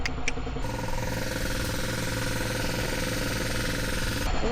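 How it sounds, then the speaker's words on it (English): A fence post pounding machine drives posts into the ground outdoors, making a rapid, steady hammering over a running engine drone, with no talking. "This machine pounds it in."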